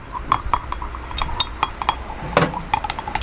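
A utensil stirs melted soft plastic fishing bait mixture in a cup, making quick clinks and light taps against the container in an irregular rhythm, close up and with no voices.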